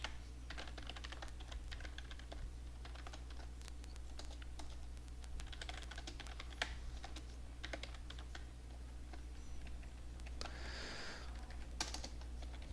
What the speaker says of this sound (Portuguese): Digitar nossas bibliotecas aqui, pessoal, bem rapidinho, não perder tempo.